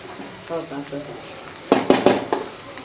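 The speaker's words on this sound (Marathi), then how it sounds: "बटाटा असा परतून घ्यायचा" Boiled potatoes being sautéed in a pan for vada pav filling: a voice talks briefly, then several loud bursts of scraping and sizzling follow in quick succession as the mixture is turned.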